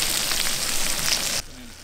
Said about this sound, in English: the sizzle of this cook is just way overtaking the sound